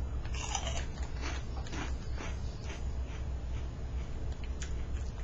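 Someone bites into and chews store-brand Cheetos-style cheese snacks close up, with sharp repeated crunches over a steady low rumble and no talking.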